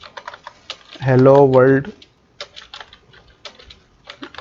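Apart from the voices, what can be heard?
typing on a computer keyboard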